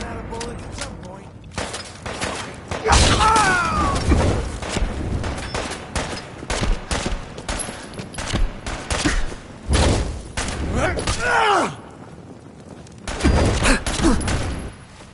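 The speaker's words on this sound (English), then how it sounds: "Need some cover fire over here!" Gunfire in the video game Fallout 4, repeated bursts of shots separated by short pauses, loud and close, with voices shouting in between.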